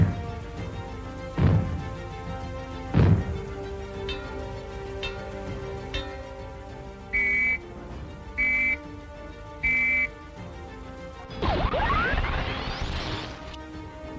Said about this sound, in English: If the fallout warning sounds are heard, they will be like these.